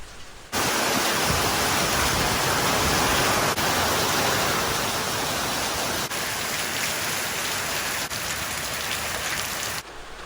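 Constant rain pours down on a spring homestead garden during flooding, a dense, steady hiss of drops on surfaces that holds unbroken for the whole stretch before cutting off.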